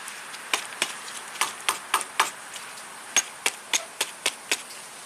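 Petrified brake fluid is dumped out of the clutch master cylinder of a 1967 Triumph GT6, as a series of sharp, close knocks and taps in an irregular rhythm with no talk.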